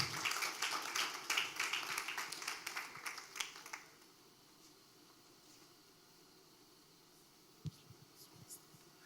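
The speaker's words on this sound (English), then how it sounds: "Please let's clap for him." An audience in a conference hall at a law week event claps for a Senior Advocate joining the panel. The dense, lively applause lasts about four seconds, then stops abruptly into near silence with a few faint knocks.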